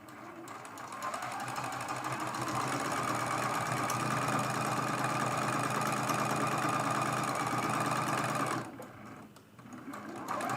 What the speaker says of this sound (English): we're sewing with that 1/4 inch seam allowance.